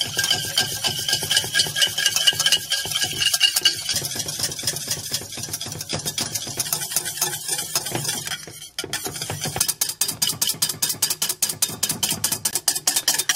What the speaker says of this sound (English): I'm just going to whisk these and keep whisking until they are light and slightly thickened.